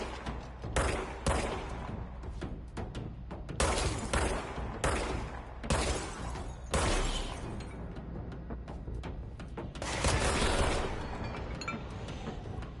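Bursts of gunfire from shooting at an enemy in the video game Control, several loud volleys with short gaps, sharp cracks and impacts between them.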